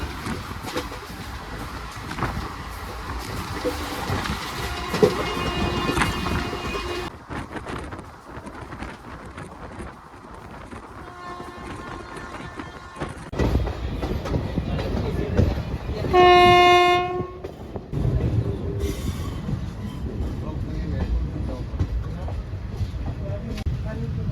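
Inside a general coach of a passenger train heading from Junagadh toward Jetalsar junction, wheels rumble continuously and a horn blasts once partway through. Voices are heard faintly in the background.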